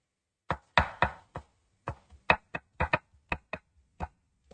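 A knife chops through garlic on a cutting board in about a dozen sharp, close, irregularly spaced thuds, each followed by silence, with no voices.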